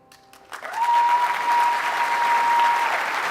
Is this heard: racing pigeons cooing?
no